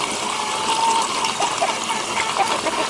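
Water gushes steadily into an automatic chicken waterer fed through a float valve, a close, loud, even rush of flow with faint bubbling that holds throughout.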